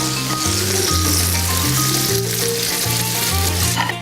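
Steak fries in oil with a loud, continuous, close sizzle and crackle, while background music plays steadily underneath.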